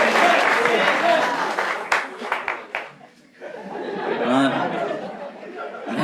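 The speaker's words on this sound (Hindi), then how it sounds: "उसके लिए ताली बजाइए" An audience at a comedy escape-room show claps and chatters, with scattered applause and sharp claps under overlapping voices and laughter. The sound fades briefly in the middle and then picks up again.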